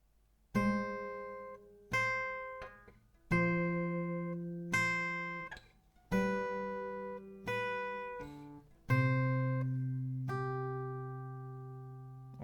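A plucked acoustic guitar strums chords about every second and a half, each ringing and fading before the next, alone and close.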